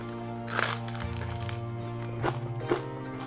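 Crispy roasted pork knuckle skin bitten and chewed, giving a few sharp crunches in short bursts close to the mouth, over a steady low background hum.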